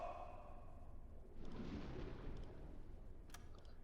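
A torpedo firing from a U-boat's tube in the submarine game Uboat, a muffled low whoosh and rumble swelling after a faint tonal hum, then fading, with a small click near the end.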